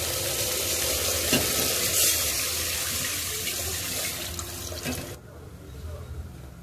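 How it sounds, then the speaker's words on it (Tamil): Tamarind water is poured into masala sautéed in oil for horsegram rasam, setting off a loud, close sizzle and watery rush that fades into a quieter simmer. "இதனால எண்ணெயில் கொஞ்சம் வதக்கி விட்டுட்டு இப்போ நம்ம புளி தண்ணி ஆட் பண்ணலாம்."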